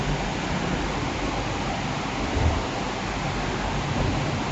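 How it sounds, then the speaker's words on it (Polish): Steady, dense roar of heavy rain pouring down, a constant wash of noise with a faint low rumble beneath. "To są tony wody spadające w przeciągu paru chwil."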